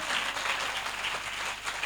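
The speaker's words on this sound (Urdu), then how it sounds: "اور زوردار تالیاں ہو یسوع مسیح کے لیے بجائیں۔" A church congregation at a Sunday service applauds loudly and steadily, a dense wash of clapping that stays even from start to finish with no voices on top.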